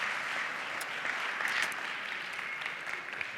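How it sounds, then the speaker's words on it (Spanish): Applause from a modest audience at an entrepreneurship round-table event, a steady, fairly soft patter of many hands clapping, heard alone without talk. "Un aplauso."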